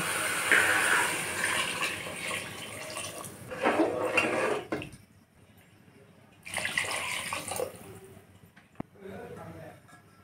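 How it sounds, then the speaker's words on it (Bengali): Water poured into a simmering pan of katla fish curry with pointed gourd, cooked in little oil: two rushing, splashing bursts separated by a short pause, with a person talking over them. "কষানো হয়ে গেছে, এবার আমি জল দিয়ে দেব।"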